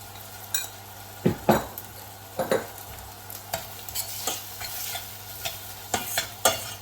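Spinach and frozen peas for palak rice are stirred in a pan, with repeated irregular scrapes and clinks of a spoon over a low steady sizzle, close up and with no voices.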